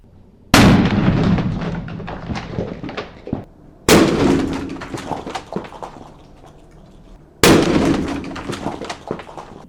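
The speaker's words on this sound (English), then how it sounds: "I find these unnecessary explosions unbearable." Three loud, chunky firework blasts, each a sudden sharp bang with a long rumbling, crackling tail, spaced a few seconds apart at close range.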